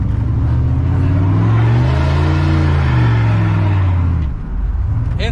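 A truck with a 6.0 LS swap revs hard through a burnout. A loud, steady engine drone rises and falls in pitch over a bed of tire roar, easing off near the end before the noise picks up again.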